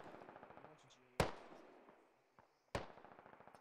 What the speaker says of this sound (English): I believe mortars are up now.